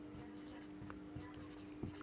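Pen strokes on paper during a class 10 maths lesson on triangles, faint scratchy scribbles with a few small taps and a steady background hum.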